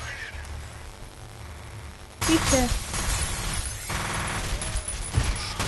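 Gunfire in the video game F.E.A.R. starts with an abrupt burst partway through and continues as sharp crackling shots and impacts, while a player talks over the action.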